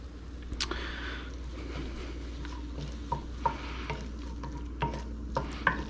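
Ramp paste is stirred into pasta in a hot pan with soft sizzling and a few sharp scrapes and clicks of a utensil against the pan, close and fairly quiet.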